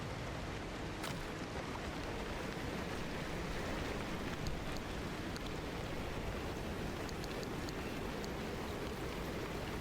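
Steady rain falls with a dense, even hiss in the video game Pacific Drive, continuous and fairly soft with no voices over it.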